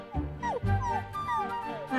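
A newborn puppy in an animated movie whimpers and yips in short rising and falling squeaks, close and clear, mixed with voice-like sounds.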